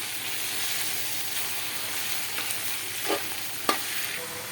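Onions frying in a pan for Egyptian koshari, stirred continuously: a steady bright sizzle with a few soft scrapes and one sharp clink of the utensil against the pan, no voices.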